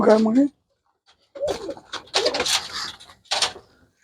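Soft pigeon coos close by, a few short calls separated by brief pauses, with some muffled speech-like sounds mixed in.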